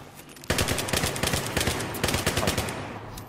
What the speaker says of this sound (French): On me tire dessus, Akra.